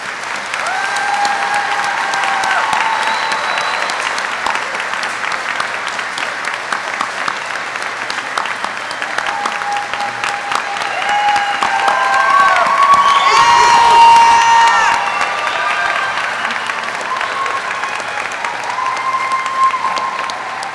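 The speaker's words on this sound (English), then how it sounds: "Please join me in a round of applause for these outstanding warrant officers." Sustained loud applause and cheering from a crowd at a warrant officer graduation ceremony, steady throughout, with whoops and shouts rising near the middle.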